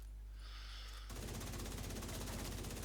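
Sustained automatic assault rifle fire in The Division 2, starting abruptly about a second in and continuing as a dense, rapid, loud stream of shots to the end, after a quieter stretch of background game ambience.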